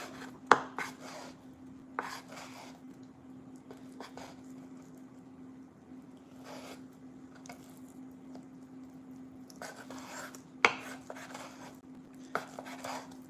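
Food for egg rolls is cut on a board with a knife, making sparse, quiet chopping taps in small clusters over a low steady hum, with a few sharper knocks.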